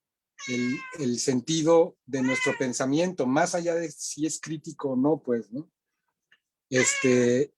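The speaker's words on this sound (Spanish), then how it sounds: "perdón por mi gato, pero él tiene igual como mucho que decir" Pet cat meowing near someone talking in Spanish, its short tonal cries mixed in among her speech and one clear meow near the end.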